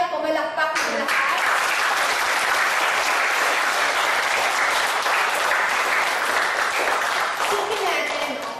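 A church congregation breaks into loud, sustained applause after a brief moment of speech. The clapping holds steady and full for several seconds before tapering at the end.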